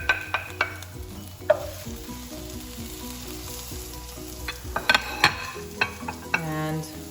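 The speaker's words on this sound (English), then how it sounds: "this is heating up. I'm gonna add in the garlic first." Garlic sizzles steadily in hot olive oil while curry noodles with shrimp are being made, with occasional utensil clinks and stirring scrapes over the continuous frying hiss.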